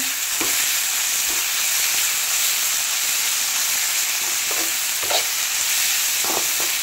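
Amaranth leaf curry frying in a pan, a steady close sizzle with occasional soft stirring scrapes throughout, no voices.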